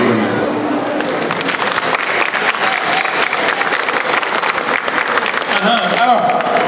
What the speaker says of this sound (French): c'est comme ça que vous applaudissez le directeur du livre